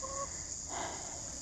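Soft clucking from Rhode Island Red chickens out on pasture, faint and brief, over a steady high-pitched background hum.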